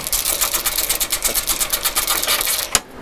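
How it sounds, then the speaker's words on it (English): Phillips head screw backed out of the body side molding on a 1973-1980 Chevy C10 fender: a close, steady run of quick ratcheting clicks from the driver for about three seconds, ending in one sharper click, with no talking. "the first thing you gotta do is take out this Phillips head screw. So let's take that out"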